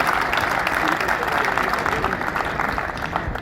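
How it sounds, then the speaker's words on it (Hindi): A rally crowd claps loudly and continuously, a thick roar of applause with crowd noise mixed in, holding steady from start to end. "तो उनके लिए भरपूर तालियां होनी चाहिए।"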